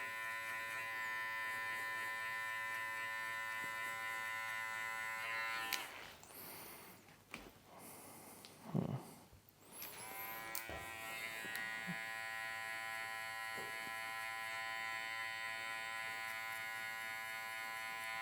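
An electric hair clipper buzzes steadily and close up during a burst fade haircut, its tone briefly breaking off and shifting midway as the angle changes, then resuming its constant whine.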